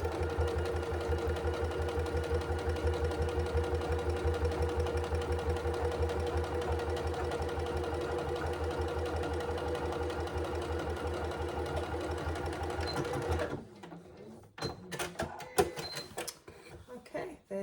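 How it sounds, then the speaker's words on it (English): A sewing machine top stitching at a slightly longer stitch length on a zip pouch, running in a close, steady rapid hum for about thirteen seconds before stopping, followed by scattered handling clicks and rustles. "So I set my machine to a slightly longer length for top stitching."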